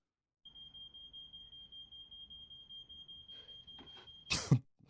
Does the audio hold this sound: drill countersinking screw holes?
no